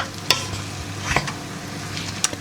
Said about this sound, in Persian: یه مقدار زردچوبه بهش اضافه میکنم و یه هم میزنم